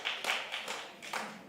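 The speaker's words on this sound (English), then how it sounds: "3 people are clapping" A few people clap in a sparse, uneven burst of about five slaps spread over a second and a half, close and fairly quiet with no talking.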